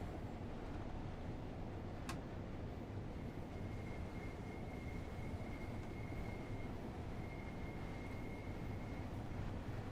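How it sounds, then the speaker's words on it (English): Trains rumbling past in the Train Sim World 2 video game during rush hour, a steady broadband rail roar with a faint tonal whine and one sharp click, continuous and fairly loud throughout. "Look at all the trains coming through here."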